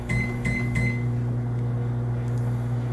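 A running microwave oven hums steadily with a low electrical drone, and three short high beeps sound in its first second before the hum carries on alone.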